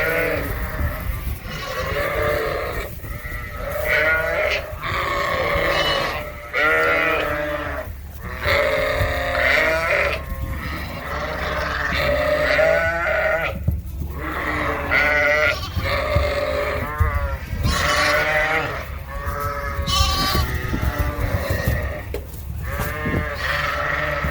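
A flock of sheep and lambs on a farm bleat almost continuously, overlapping calls of varying pitch repeating close by throughout.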